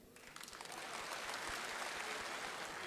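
Audience applause at a rally against the 2025 Waqf Amendment in Talkatora, a dense patter of many hands clapping that swells in and holds steady, moderately distant.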